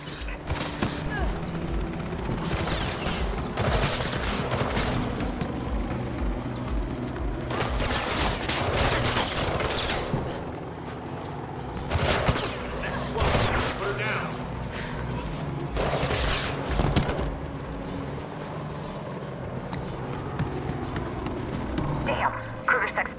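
Shotgun blasts and gunfire in Mirror's Edge Catalyst, with repeated loud sharp bursts scattered across a busy stretch of game action while a voice talks intermittently.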